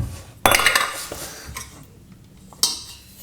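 A big tablespoon clinks against a mixing bowl while black treacle is measured for Christmas gingerbread men, two sharp clatters of metal on crockery with quieter scraping between them.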